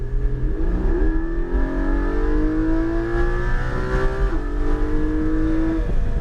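A car accelerates hard on the Portland International Speedway race track. The engine rises steadily in pitch, drops briefly at a gear change, then climbs again, loud and close throughout.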